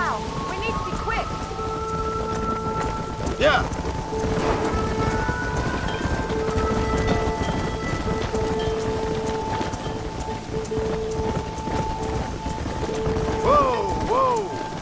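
A rain and thunder storm in the video game Red Dead Redemption. Steady heavy rain hisses throughout with rumbling thunder, while a voice speaks briefly and tonal game sounds sit over the downpour.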